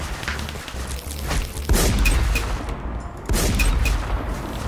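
M107 rifle fire in a Minecraft server battle: rapid bursts of shots and heavy thumps crowd a dense, noisy stretch, with a brief lull before firing resumes.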